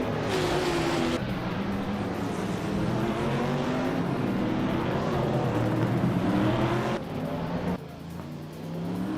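A vintage 1969 Chevrolet Camaro racing in a video game, its engine a loud, steady droning roar that holds throughout with little change.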